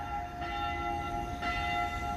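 Six o'clock bells from a Catholic church below the listener, a distant ringing tone that holds steady and swells with a couple of fresh strikes over a faint outdoor rumble.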